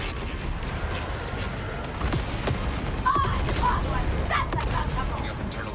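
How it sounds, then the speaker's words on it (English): Gunfire and explosions in a Star Wars Outlaws space battle, with scattered blasts and shots rumbling over a dense, steady roar, while characters talk over the action. "Picking up internal explosions."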